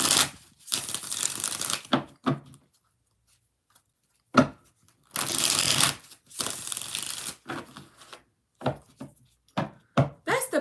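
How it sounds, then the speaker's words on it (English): Tarot cards shuffled in quick riffling bursts, loud and close, separated by short pauses and one longer quiet gap, with no talking. "2 more shuffles."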